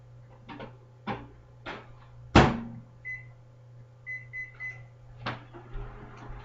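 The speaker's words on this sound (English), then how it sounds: "put the stack cooker lid on, and I'm going to set this in the microwave" A cupboard-like door thuds shut, then a series of keypad beeps as a microwave is set for 6 minutes with a Tupperware Stack Cooker of chili inside, with a steady low hum running underneath.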